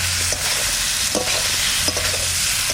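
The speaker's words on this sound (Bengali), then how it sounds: "এবার দিয়ে দেবো কষানো আলু," Sautéed potatoes tipped into chickpea dal and stirred in a pan in village-style cooking, giving a loud, even sizzle broken by repeated scraping and clinking strokes of a spoon.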